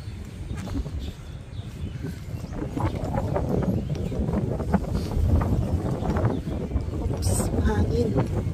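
Gusty wind buffets the microphone with a rough, rumbling roar that grows steadier and louder, with faint scattered sounds beneath.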